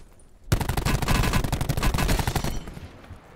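Rapid automatic gunfire in a shooter video game, a fast string of loud close shots lasting about two seconds before tailing off into softer echoes.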